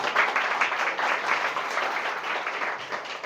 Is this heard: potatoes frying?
no